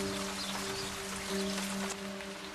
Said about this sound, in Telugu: బయట వాన పడుతుంది.